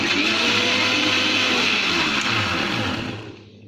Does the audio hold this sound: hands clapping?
no